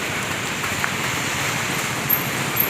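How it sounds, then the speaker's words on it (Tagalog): Rain falls steadily as a soft, even hiss of raindrops on surfaces, with a few slightly louder drips near the end and no voices. "ulan pa talaga yan ang ano ng ulan patak patak ng ulan"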